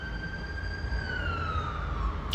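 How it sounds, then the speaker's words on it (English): Ambulance siren wailing on a road, a steady high tone gliding slowly downward as the vehicle passes at moderate distance, heard alone without talk. "Now you got the ambulances following behind him."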